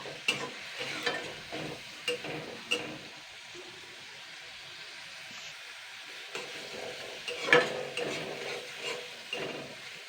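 Two gondhoraj lemon leaves fry in hot oil for a Bengali chana dal and prawn dish, giving a steady soft sizzle with intermittent spoon-scraping clicks and knocks against the pan.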